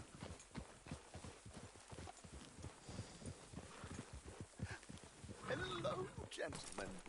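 Horse hooves clip-clop in a steady rhythm through Red Dead Redemption 2, riding along near the town of Rhodes, with game character voices talking over the hoofbeats and a louder swell near the end.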